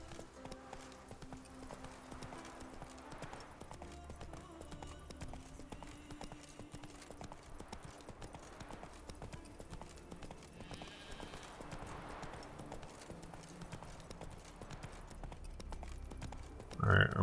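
Horse hooves galloping in The Witcher 3, a rapid clip-clop pounding steadily throughout alongside game music and ambience, with a voice speaking over it.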